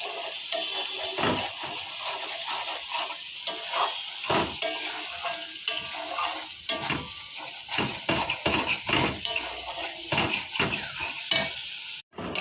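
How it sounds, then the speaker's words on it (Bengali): Ground spices with Kashmiri chili powder and turmeric frying in a pan, a continuous sizzle broken by repeated scraping and clinking of a spoon against the metal, close and busy, with no talking. "মশলাটা ভাজা হয়ে গেছে"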